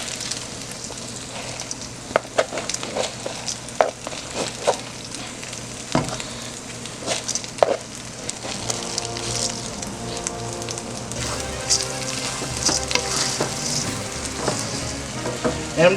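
Egg fried rice sizzles steadily in a pan while a utensil scrapes and clacks against it in irregular strokes, the frying hiss constant and close throughout.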